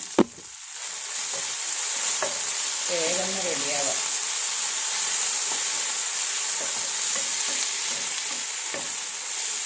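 Ivy gourd stir-fries in a hot pan over high flame with a constant bright sizzle and scattered scraping taps of a spatula, while someone speaks briefly.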